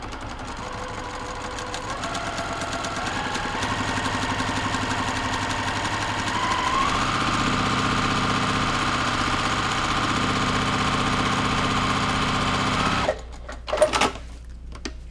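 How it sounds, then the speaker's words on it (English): Sewing machine with an open toe foot stitching a quilt block, a continuous close rhythmic whir that holds steady for most of the clip before stopping, followed by a few handling clicks. "So I'm gonna sew on this line, changing my foot to the open toe foot."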